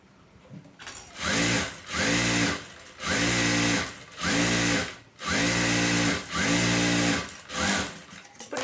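Sewing machine stitching a waist belt runs in six or seven even bursts of about a second each, with brief pauses between, loud and close with a steady mechanical whir.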